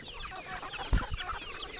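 A flock of backyard chickens, including many young birds, clucks busily as the birds are let out of their pen, a continuous close chorus of overlapping clucks and chirps with one sharper thump midway.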